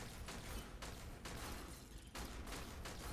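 Rapid bursts of gunfire from shooting at targets in the Warframe video game, several loud broadband volleys running back to back across the whole stretch.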